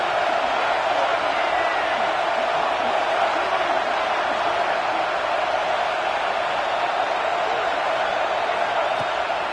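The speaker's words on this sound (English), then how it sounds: "The roar of the crowd trying to fuel this defense to keep them pinned in their own end." A football stadium crowd at a Georgia versus Texas game keeps up a loud, sustained roar, broad and unbroken as a constant wall of sound.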